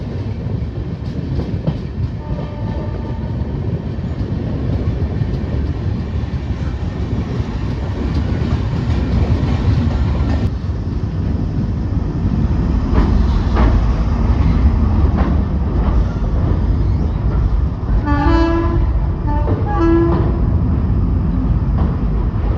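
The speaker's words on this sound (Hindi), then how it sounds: "अराइवल हो रहा है हज़रत निज़ामुद्दीन पे, और यहाँ पे कोई ट्रेन का डिपार्चर भी हो रहा है इसी टाइम।" Swaraj Express 12471 pulling into Hazrat Nizamuddin station: a loud, steady rumble with rolling wheel clatter from inside the train, and brief tonal horn-like calls near the end.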